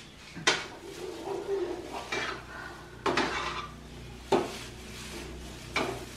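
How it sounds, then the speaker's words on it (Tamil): Metal spoon stirring a thick Mysore pak mixture of gram flour and ghee in a pan, steady scraping with a few louder clanks against the rim, close and fairly quiet. "இப்படி நீங்க கை விடாம கிளறிட்டே இருந்தீங்கன்னா அதுல தீயாது."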